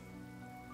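Steady rain falls throughout a Honkai: Star Rail cutscene, a dense, even patter of drops on surfaces with no break, heard alone and at moderate level.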